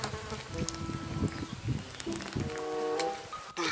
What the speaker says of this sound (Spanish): Ahí están moscas.